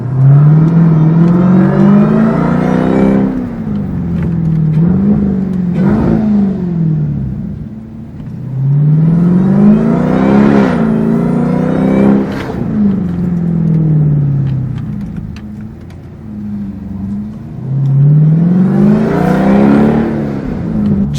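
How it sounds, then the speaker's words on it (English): Dodge Durango Hellcat engine and aftermarket exhaust pulling hard through repeated loud accelerations, each rising rev climb followed by a brief shift or lift, heard from inside the cabin with a window cracked and supercharger whine present. "this exhaust, whatever exhaust setup he has on here, is killer"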